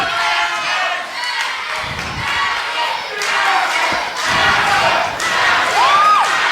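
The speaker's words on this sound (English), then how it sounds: "And listen to this crowd chanting" A wrestling crowd at a live independent show roars and chants loudly in waves, with rhythmic swells, and a shrill whistle rises near the end.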